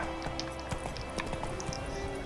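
Horse hooves patter in a quick, galloping clip-clop in The Witcher 3, light and fairly distant against a constant background hum.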